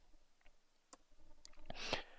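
Several sharp, quiet computer mouse clicks, scattered singly, then a quicker cluster near the end, with no talking.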